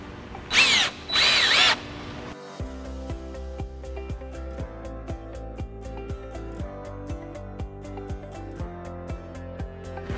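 A power drill drives screws into the sides of a wooden table tray: two short loud high whirring bursts, then a long run of rapid regular ratcheting clicks from the clutch slipping, close and alone.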